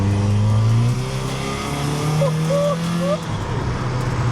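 A modified VW Caddy car engine roars and revs hard at close range while driving, the pitch sweeping up and down with shifts, a voice briefly over it.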